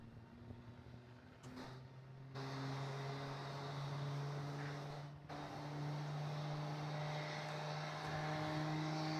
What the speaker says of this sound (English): There's a very nice landing there.